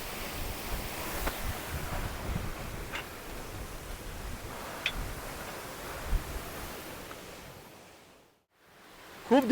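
Amboli waterfall in Konkan monsoon, a steady broadband roar of rushing water with wind buffeting, continuous and fairly loud before a brief dropout near the end.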